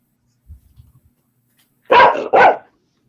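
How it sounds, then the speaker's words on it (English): A dog gives two loud, close barks in quick succession after a few faint low thumps and grumbles. "Oh, hush your mouth, dog."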